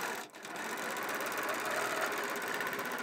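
Longarm quilting machine on a frame stitches a sharp stippling pattern, a fast steady mechanical hum with rapid needle chatter, close and moderately quiet, a brief dip near the start.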